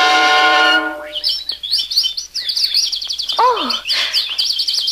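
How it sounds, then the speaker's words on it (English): Small baby birds in a forest chirp and tweet in quick, busy bursts, close and lively, with rising and falling calls overlapping one another and no talking. "Oh, only little baby birds."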